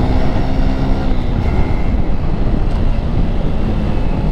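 A Suzuki Smash 115 Fi motorcycle engine revs hard and steady in third gear, a loud, continuous low drone with constant wind rush and no talk over it.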